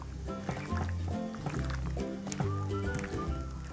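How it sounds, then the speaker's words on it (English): Water is added little by little to a flour batter for Thai spicy chicken wings, giving wet liquid sloshes and soft squishy stirring sounds, fairly faint and close. "we can add a little bit of water, little by little"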